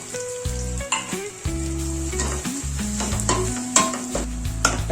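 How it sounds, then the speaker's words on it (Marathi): Finely chopped onions sizzle in a pan after ginger-garlic paste while a utensil scrapes and stirs them, under a loud, low, shifting tonal drone. "2 कांदे बारीक चिरलेले ते टाकते"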